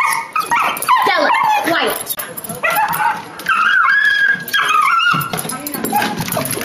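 A dog yips, whines and squeaks in high, wavering bursts with some howling tones, close and fairly loud, mixed with a person talking throughout.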